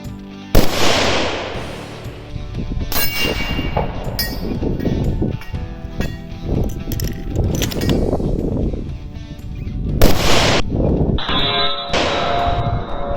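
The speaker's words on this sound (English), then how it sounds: "confirm the adjustment with a follow-up shot" A rifle follow-up shot on a range gives a loud, sharp report with ringing metallic clangs, in a busy outdoor scene with other impacts and echoes around it.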